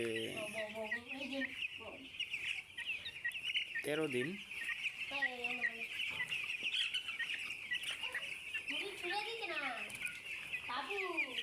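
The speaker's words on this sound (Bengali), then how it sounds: "এখানে ব্রয়লার মুরগি দেখতে পারতেছেন" About seven hundred broiler chickens, thirteen days old, cluck and cheep in a farm shed. The busy chorus continues throughout, with many overlapping calls close by, while someone talks over them.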